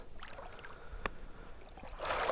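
Oars dip and splash in calm water on a forest lake, with one sharp splash partway through and louder sloshing near the end against a soft outdoor hush.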